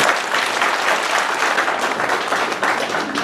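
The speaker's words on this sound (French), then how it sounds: "qu'il vous plaise d'acclamer Monsieur le Président de la République" An audience at a constitutional symposium applauds the President of the Republic, with steady, dense clapping from a large crowd that carries on throughout.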